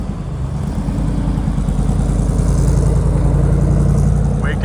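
A trailer-hauling vehicle's engine turns over and runs after several months in storage, a steady, fairly loud low rumble at idle with no talk over it.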